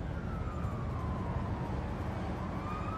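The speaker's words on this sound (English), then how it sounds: "Where's that damn siren coming from?" A distant siren wails faintly with a slow rising and falling pitch, nearly buried under steady low rumbling noise.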